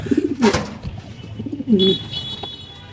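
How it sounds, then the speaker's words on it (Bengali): Lahori pigeons at a pigeon farm giving soft, close, throaty coos in two short bouts, with a brief rustle between them. "এখানে দুইটা মাদি কবুতর আছে দেখেন মাশাআল্লাহ খুব সুন্দর"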